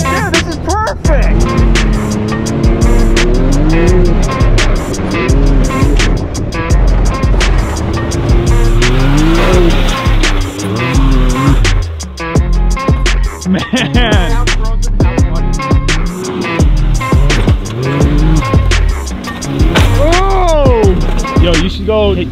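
Side-by-side utility vehicle driving hard and skidding over a jump, its engine loud and close with repeated revving swells and drops throughout, voices talking faintly under the noise.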